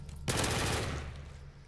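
Rapid automatic gunfire rattles out in a Call of Duty Zombies match, a quick burst of close, loud repeated shots that starts sharply and then trails off.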